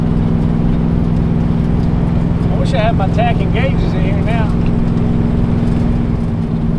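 A 1957 Chevy engine with a new exhaust drones steadily and loudly throughout, a deep constant rumble from inside the moving car, with someone speaking over it.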